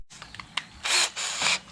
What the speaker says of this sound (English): when you drill your first hole that you're going through the wood